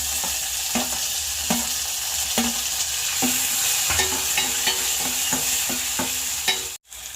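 Garlic, curry leaves, dried chillies and tomato sizzle loudly in a hot pan for tomato rasam, with a steady frying crackle and regular stirring scrapes about every half second, close and without talk.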